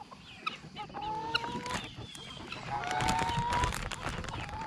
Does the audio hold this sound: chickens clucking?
yes